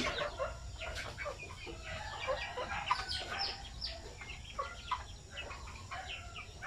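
A flock of chickens being let out into a range area cluck and squawk busily and continuously, with overlapping calls at moderate distance and no talking.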